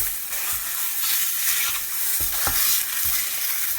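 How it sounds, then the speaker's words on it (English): Sausage sizzling and crackling in a hot skillet, a steady bright hiss with a few sharper pops and stirring scrapes. "Why do we want that noise? Because a hot skillet makes brown food"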